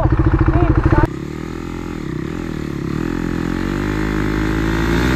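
A motorcycle engine runs close by during a Duke 390 versus Pulsar NS 200 matchup, with a rhythmic pulsing idle for a second, then a steady, higher continuous drone, with a voice talking alongside.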